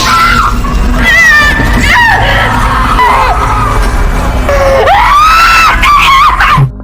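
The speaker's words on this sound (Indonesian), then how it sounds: "saat mendengar jeritan anak-anaknya" Children in an Indonesian horror film shriek in loud, sustained, piercing screams that rise and wail over several seconds, one cry after another, with a harsh noisy background.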